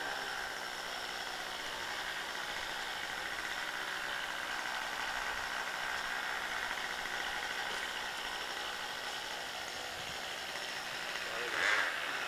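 An RC jet aircraft turbine engine with an onboard starter runs up on propane before switching to kerosene, making a steady, loud hissing roar with a faint whine that holds throughout while people talk nearby.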